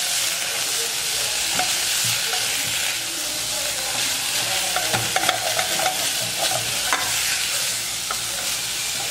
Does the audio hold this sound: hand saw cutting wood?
no